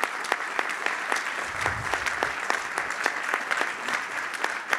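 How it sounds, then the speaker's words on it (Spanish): Steady applause from a seminar audience sending off a guest speaker, dense crisp clapping sustained throughout at moderate loudness, with a brief low murmur partway through. "Despedimos entonces con un gran aplauso a nuestro invitado."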